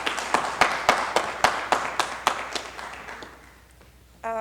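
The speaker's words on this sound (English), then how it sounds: "Let's give her a round of applause as she performs" A small audience at a Veteran's Day event claps for a singer, a sparse series of about a dozen distinct, evenly spaced claps that thin out and fade, followed by a brief voice at the end.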